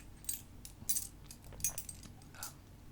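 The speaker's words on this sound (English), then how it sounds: "But it's my keys for here. Just because I have skeleton keys" Metal skeleton keys jangle and clink in a few brief bursts, close and soft in a quiet room.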